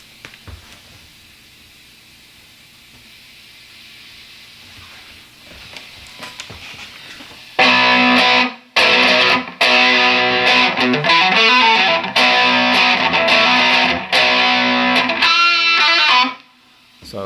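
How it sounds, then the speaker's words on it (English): An electric guitar plays lead lines through the distortion channel of a Blackstar amp, loud and saturated with sustained notes and short breaks, after a quiet stretch of low hum and faint noise. "it's got a real nice distorted sound. I like the Blackstar amps a lot, and I think their distortion channel is fantastic"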